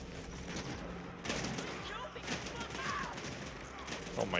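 Gunfire in the co-op action game The Ascent, a dense, continuous spray of shots from what may be a minigun, steady and fairly loud, with a few brighter bursts and effects mixed in.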